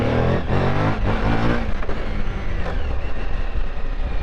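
A 2014 Suzuki V-Strom 1000 motorcycle engine on a ride, a loud, steady droning rumble with a few revving surges early on and constant wind and road noise.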